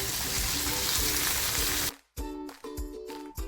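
Homemade masala paste sizzles loudly in a hot pan with garlic fried until red, a dense steady crackle that cuts off abruptly, followed by quieter clinks and stirring.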